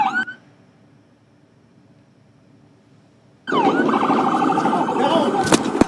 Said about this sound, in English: That's an ambulance coming out from where the shooting was taking place.